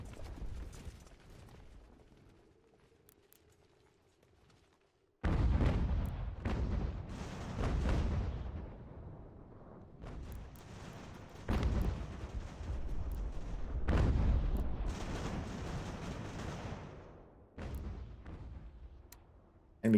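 Enemy cannons fire in a battle in Ultimate General: American Revolution, heavy booming blasts and rumbling volleys that arrive in bursts, some very loud and close, with quieter gaps between them.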